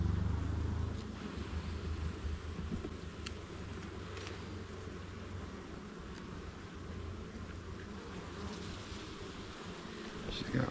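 Carniolan honeybees buzz steadily from an open hive during an inspection of brood frames, a constant close drone with low rumbling handling noise throughout.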